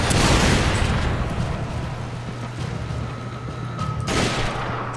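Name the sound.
rocket launcher fire and explosion in Resident Evil 5 video game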